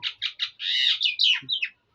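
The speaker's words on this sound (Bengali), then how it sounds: "দেখেন দেখেন কি ছিলছিল করে পাখি" Small pet birds, brought indoors from the rain, chirp in a quick series of bright, close tweets and trills, a short burst of busy calls with no talking.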